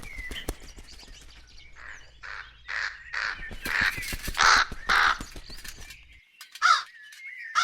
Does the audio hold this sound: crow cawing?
yes